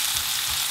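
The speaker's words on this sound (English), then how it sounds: "Okay, I've fried the prawns both sides, so they've had 3 minutes of frying" Prawns fry in a hot pan, making a steady, close sizzle of hissing and crackling oil that continues evenly without pause and with no voices.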